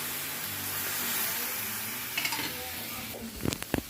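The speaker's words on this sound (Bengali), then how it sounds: "একটুখানি সেবাইকে ঘিয়ে ভেজে নিচ্ছি" Steady crackling sizzle of vermicelli frying in ghee, with a few sharp clinks of a utensil against the pan near the end.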